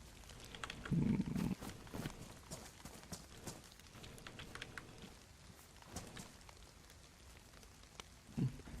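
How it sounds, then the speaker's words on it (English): Steady rain falls in the survival game DayZ, a soft continuous hiss with a few louder bumps and knocks, no talking over it. "Oh, sitting in the rain."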